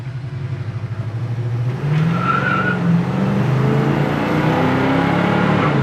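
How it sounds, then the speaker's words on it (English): A 1965 Pontiac GTO rumbles close by on a test drive, its V8 engine note steady and loud with a rise in revs partway through, tyre noise mixed in, no talking. "we're test driving this 1965 Pontiac GTO"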